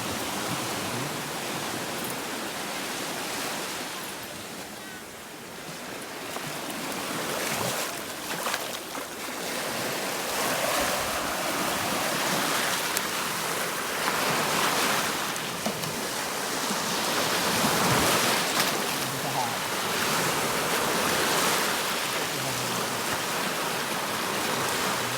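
Ocean waves washing onto a rocky beach, a steady broadband roar with surges rising and falling throughout, fairly loud and continuous with no talk.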